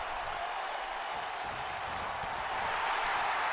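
Crowd noise in the WWE 2K19 wrestling video game during a Monday Night RAW match, a dense, steady roar of cheering that swells slightly toward the end, with no commentary over it.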